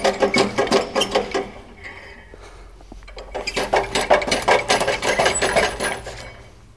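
A Genie aerial work platform runs with a steady low mechanical hum under repeated clicking and rattling bursts that fade briefly, then return louder and busier near the machine.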